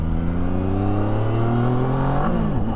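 A Zontes 703F Adventure motorcycle engine with an unbroken-in motor accelerates steadily, its rising drone smooth and continuous throughout, then briefly dips and recovers near the end, as if shifting gear.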